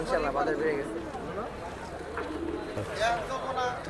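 Pigeons coo softly in short, repeated calls close by at a pigeon market, with some rustling and background chatter around them.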